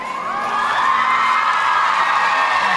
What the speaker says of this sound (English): They are very much feeding off this rather vocal crowd